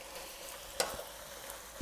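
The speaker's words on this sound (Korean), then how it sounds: "센 불로 볶아주시고" Korean namul vegetables stir-fried over high heat in a pan, giving a steady close sizzle and crackle with one brief sharper clatter of stirring partway through.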